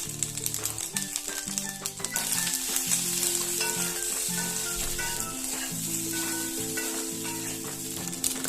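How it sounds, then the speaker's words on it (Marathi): A poha and sooji breakfast sautés in a pan, sizzling steadily with repeated scraping and stirring strokes, close and continuous with no voices. "टिक्क्या किंवा नाश्ता जो आहे तो आता परतून घेऊया"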